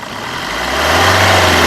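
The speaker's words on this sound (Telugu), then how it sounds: "ఒకసారి ఈ కారు ఇంజన్ నాయిస్ అనేది వినిపిస్తాను" A 2019 Maruti Suzuki Brezza VDI AMT's diesel engine runs loud and close, a steady rough rumble that swells slightly as it revs up.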